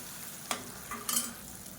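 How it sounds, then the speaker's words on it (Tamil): Two eggs fry and get stirred into sautéed onions in a pan, a soft steady sizzle with a couple of brief scraping strokes of the spatula, close but quiet. "இப்போ 2 முட்டையை உடச்சிட்டு சேர்த்துக்கலாம். சேர்த்துட்டு லைட்டாக அப்படியே பரட்டி விட்டுக்கலாம்."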